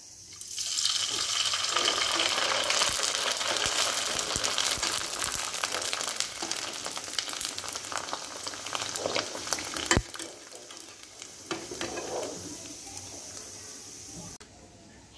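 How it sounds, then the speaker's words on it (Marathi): Kurdai, crisp wheat fritters, fry in hot oil with a loud, steady crackling sizzle that fills the scene, growing uneven and softer toward the end, with occasional clinks and light handling noises. "म्हणून आधी मी कुरडई तळते आहे."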